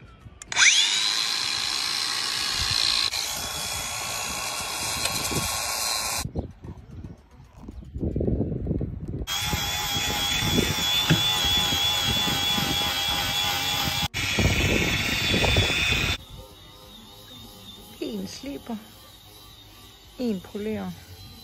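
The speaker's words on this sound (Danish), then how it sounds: "og nu skal jeg til at slibe." A power sander works on the hull of a boat in loud, sustained bursts that stop and restart, with a gap of background sounds and birds between runs.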